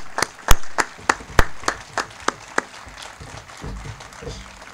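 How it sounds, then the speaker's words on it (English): Scattered, sparse clapping from a small audience honoring sailors and their wives at a ribbon-cutting ceremony, several sharp distinct claps that thin out into quiet room noise. "let us give you an applause"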